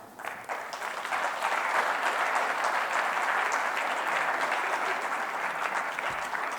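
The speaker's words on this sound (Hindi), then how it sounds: "एक बारी जोरदार तालियां होनी चाहिए साडे श्री अमरजीत अग्रवाल जी दे वास्ते।" Sustained audience applause fills a valedictory conclave session, a dense wash of many hands clapping steadily throughout, fairly distant and even in level.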